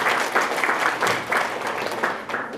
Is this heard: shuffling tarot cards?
no